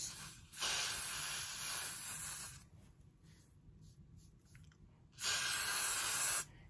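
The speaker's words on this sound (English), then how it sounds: "I'm gonna just use the spray, and I'm gonna just spray it and then let it dry" Lace melt spray hisses onto a lace front wig in two bursts: a long steady spray of about two seconds, a pause of quiet rustling, then a second shorter spray, close and fairly loud.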